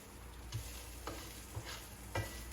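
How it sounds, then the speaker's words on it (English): Rice browns in a pan with a soft, continuous sizzle, and a spoon scrapes and taps through it four times at a steady, unhurried pace, close and quiet. "you are going to have to let this rice brown a little bit and just give it a good stir"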